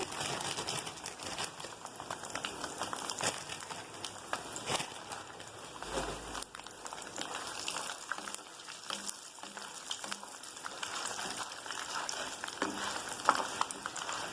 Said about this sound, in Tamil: இந்த குண்டு மிளகா போடுறேன்